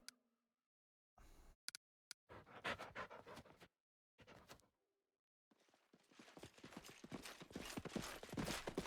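Panting of a dog character with quick clip-clopping footsteps in Pathfinder: Kingmaker, heard in short separate bursts and then a longer, steadier stretch of breathy panting and steps.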